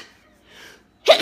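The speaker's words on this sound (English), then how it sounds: "Pardon me while I sneeze." After a quiet breath, a single sharp sneeze bursts out close to the microphone.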